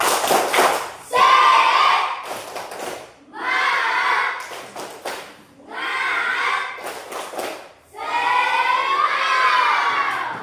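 Schoolchildren in a classroom performing a rhythmic spirit-clap cheer, four loud bursts of chanted shouting with sharp clapping, each separated by brief pauses, close and energetic.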